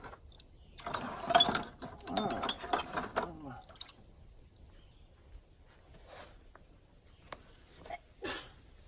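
A sharp nearby sneeze bursts out during work replacing trailer wheel bearings, followed by quieter mechanical clicks and a second short burst near the end.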